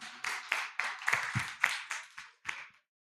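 Scattered applause for a speaker at a youth activism event, a small audience clapping in uneven bursts for under three seconds before it stops abruptly.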